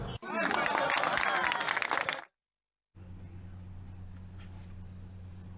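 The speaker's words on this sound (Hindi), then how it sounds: "कविता पर जहां एक तरफ तालियां बज रही हैं" Audience applause after a recited poem at a public event, loud dense clapping for about two seconds, then a brief silence followed by a steady low hum.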